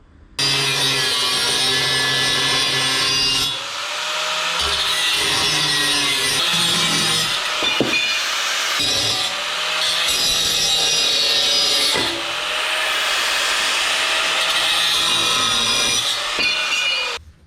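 Steady hand sawing through wood sections, long rasping strokes repeated in bursts with brief pauses between cuts, close and loud.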